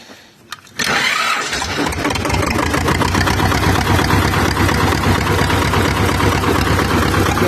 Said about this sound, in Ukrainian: Тепер показую, як заводиться легко.